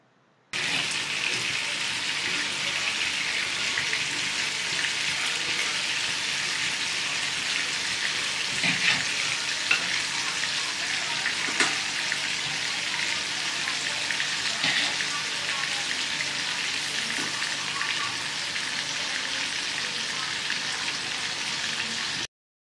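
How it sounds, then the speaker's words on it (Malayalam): Marinated fish pieces fry in hot oil for a Kerala fish pickle, giving a steady, close, hissing sizzle that runs evenly throughout with faint stirring clinks and no speech. "ഇനി ഇതിലേക്ക് നമുക്ക് പുരട്ടി വെച്ചിരിക്കുന്ന മീൻ കുറേശ്ശെ ഇട്ടിട്ട് നന്നായിട്ട് വറുത്തെടുക്കണം."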